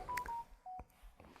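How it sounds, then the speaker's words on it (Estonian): A phone notification pings during a test of an EZVIZ C3N security camera, giving a few short electronic beep tones in quick succession, faint and clean with no talking over them. "tuli mingi teavitus jälle"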